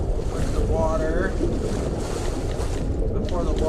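Rushing water floods through a secret exit in Skyrim, a steady loud broadband roar filling the whole stretch with a faint tonal whine briefly above it.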